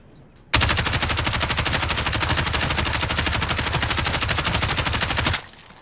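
Sustained automatic gunfire in Warzone during a recoil test, a loud, rapid, unbroken burst of shots lasting about five seconds before stopping abruptly.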